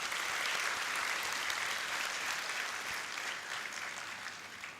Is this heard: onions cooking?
no